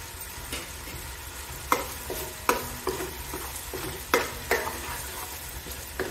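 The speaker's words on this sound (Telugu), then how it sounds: "ఇప్పుడు కొంచెం కరివేపాకు వేస్తున్నానండి." Steady sizzling of curry leaves frying in hot oil, with several sharp scraping clinks of a spoon stirring the pan.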